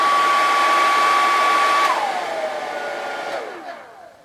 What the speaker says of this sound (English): you heard the sound of the fan there